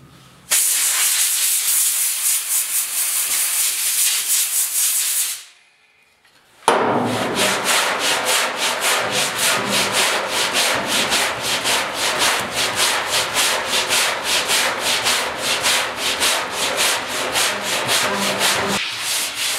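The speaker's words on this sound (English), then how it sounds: "I could bend up a piece of sandpaper, sit here and do this" Steady hand sanding on a 1972 Ford 4x4 short box truck bed panel, a dense, scratchy back-and-forth rubbing that runs loud and close, with a brief pause before the strokes resume and continue evenly.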